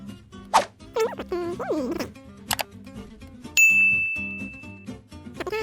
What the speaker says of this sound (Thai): อย่าลืมกดกระดิ่งเพื่อแจ้งเตือน